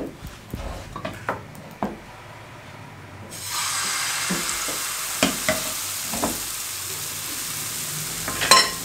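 Egg paratha frying in light ghee in a pan, a steady sizzle that swells louder partway through, with occasional soft knocks and scrapes of a spatula on the pan.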